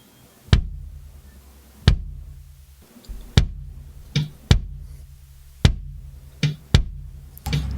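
Deep, close kick drum thumps recorded through a microphone inside the kick drum, single hits spaced irregularly about a second apart, with a boomy low resonance trailing each one and nothing else playing.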